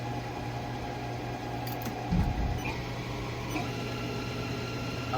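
A 2004 Haas SL-20 CNC lathe spindle runs at low speed with a steady mechanical hum, a short clunk as it ramps up slightly, then keeps droning evenly.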